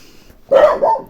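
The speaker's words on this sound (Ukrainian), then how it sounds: "собаки гавкають" A single dog barks once or twice nearby in a home setting, a sharp, loud bark after a quiet start, with no speech.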